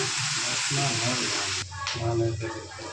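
Chopped onions with salt and turmeric frying in oil in a large kadai, a dense continuous sizzle with stirring scrapes, under a voice speaking.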